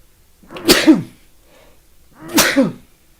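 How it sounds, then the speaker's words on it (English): Two loud, sharp sneezes about a second and a half apart, close to the mic, with a brief quiet gap between them. "I'm going to sneeze."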